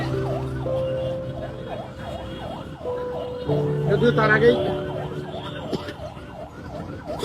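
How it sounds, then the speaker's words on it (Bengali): A fire engine siren wails in repeating rising and falling sweeps as it arrives at a motorbike fire, growing louder, with people talking nearby. "চলে আসছে একটা ফায়ারের গাড়ি"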